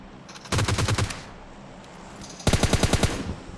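Test-firing an automatic gun in the video game PUBG Mobile: two loud rapid bursts of gunfire, the first about half a second long and the second about a second long, separated by a short pause.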